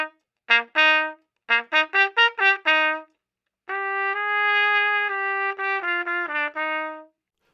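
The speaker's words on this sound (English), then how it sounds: "An example of playing it in the classical style sounds like this." A solo melodic instrument plays a classical-style phrase: a run of short detached notes, a pause, then longer sustained notes with gentle swells in volume.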